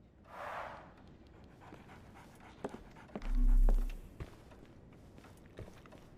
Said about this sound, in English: So, Barnes has a dog now.